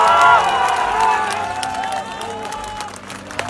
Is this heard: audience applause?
yes